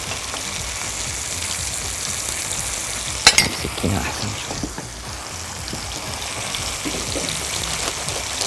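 Sliced peaches caramelize in a hot pan with a steady close sizzle and frying hiss throughout, plus a few sharp clicks of a utensil stirring around the middle.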